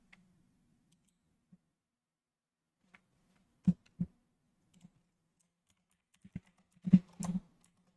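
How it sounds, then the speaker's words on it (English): Sparse computer keyboard typing by cold, fumbling fingers: scattered single key clicks, then short bursts of quick presses, close and quiet in an otherwise silent room. "Keep messing up my typing because my fingers are cold."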